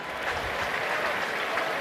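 A stadium crowd at an NFL game between the Chicago Bears and Cleveland Browns applauds an injured player, a steady dense wash of clapping and crowd noise that fills the space without pause.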